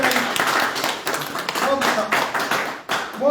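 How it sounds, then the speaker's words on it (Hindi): Applause at a BJP party headquarters in Jammu greets a new member joining the party, a crowd of hands clapping steadily throughout while people talk over it. "जोरदार तालियों के साथ इस्तकबाल किया जाएगा"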